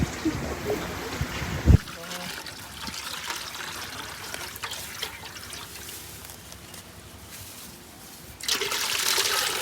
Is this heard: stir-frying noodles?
no